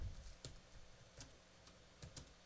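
A few sparse keystrokes on a computer keyboard, scattered clicks spaced across a couple of seconds, quiet and close with no voices over them.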